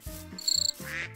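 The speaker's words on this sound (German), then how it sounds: "Das ist ein Grashüpfer" A brief chirping, buzzing call from a grasshopper in Minecraft: a few short, tonal pulses in quick succession, close and clear, with no talking.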